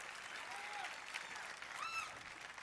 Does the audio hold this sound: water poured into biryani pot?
no